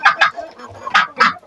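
Chickens clucking nearby in short, loud bursts, a few squawky calls in quick succession.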